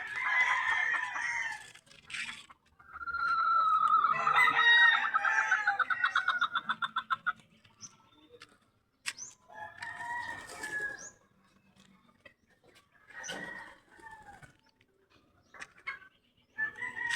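Chickens cluck and a rooster crows nearby during feeding time, with loud drawn-out crows and scattered clucks separated by quiet gaps, plus occasional wing flaps.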